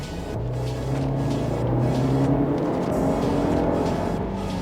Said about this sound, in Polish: Zobaczymy teraz jak 250 koni mechanicznych przyspiesza.